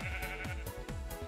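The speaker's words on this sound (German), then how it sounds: "Ihr hört's mähen, aber hier ist nichts. Kein Schaf. Ah, da ist ein Schaf." Repeated sheep bleats from Minecraft, about three wavering calls in quick succession, fairly loud and close over faint game background, with no talking.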